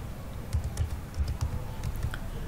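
Someone types a search query on a computer keyboard, a quick, uneven run of close plastic key clicks over quiet room tone.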